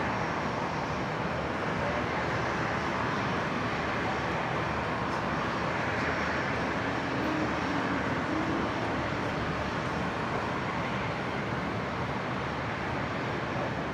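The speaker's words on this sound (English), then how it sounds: "There's the Airlink ATR. Also beginning its taxi." An Airlink ATR turboprop airliner taxiing at Brisbane Airport, heard as a steady, broad engine roar and hiss that holds constant throughout, moderately loud with no talking.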